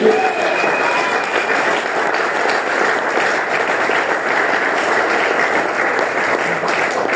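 A church congregation applauds and cheers in praise during a sermon, a loud, dense, steady wash of clapping and acclamation that fills the room for the whole stretch with no break.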